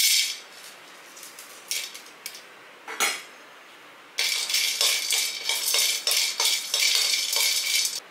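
Whole garam masala spices, cinnamon bark, marathi mokku, star anise and nutmeg, dry roasting in a pan give off repeated dry clinks and scrapes, one sharp knock near the middle, then denser rattling stirring at close range.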